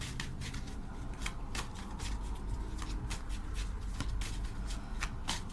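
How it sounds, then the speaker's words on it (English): Tarot cards riffled and shuffled by hand in a steady run of crisp, papery bursts, close and fairly quiet, with no talking. "Let's just pull one card on this Judgment card."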